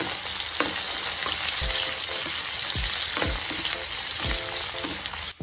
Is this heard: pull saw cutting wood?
no